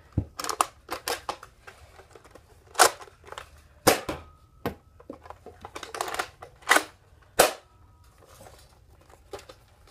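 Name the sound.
Nerf Rival Apollo blaster firing rounds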